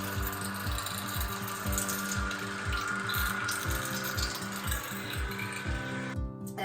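Waterpik water flosser spraying while cleaning teeth, a rapid rhythmic pulsing motor buzz with a continuous watery hiss, close and steady, cutting off briefly near the end.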